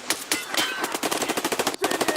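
Rapid automatic gunfire in the shooter game Escape from Tarkov Arena, a fast, steady string of loud close bursts running almost the whole time with one brief break, no talking.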